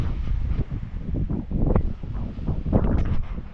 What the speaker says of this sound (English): very windy out behind me